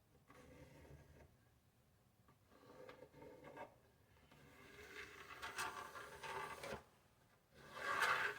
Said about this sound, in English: we're just going to lay that right on top of the other half of that board, same board, and we're going to trace this out